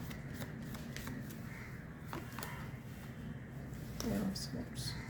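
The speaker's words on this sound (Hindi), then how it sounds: "जहाँ पर क्लैरिफिकेशन लगेगा मैं और कार्ड्स पुल करूँगी।" Tarot cards being shuffled and pulled in a quiet room, with soft riffling and flicking close to the mic, a few crisp slaps of cards, and someone talking over them.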